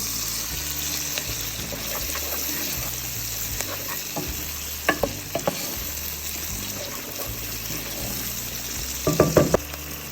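Chopped vegetables with salt sizzle steadily in a pan while being stirred, with a few sharp utensil clicks against the pan cutting through the continuous frying hiss.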